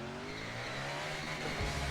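Steady tire squeal from a race car doing a smoky burnout in NASCAR Racing 2003, a sustained screeching whine over engine drone, fairly faint and uninterrupted, with no talking.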